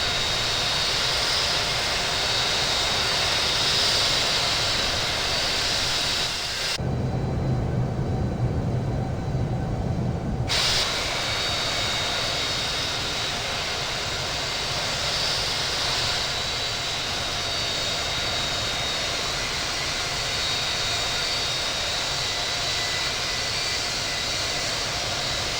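A Southwest Boeing 737 MAX 8 jet taking off from JFK, bound for Midway, with a loud steady engine roar throughout and a brief muffled dip partway through.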